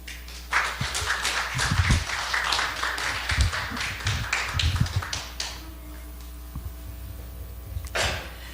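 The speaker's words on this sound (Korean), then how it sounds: "우리 격려의 박수 부탁드립니다." Congregation applause during a Wednesday church worship service, a burst of clapping that holds for about five seconds and then dies away, followed by a brief quieter patter near the end.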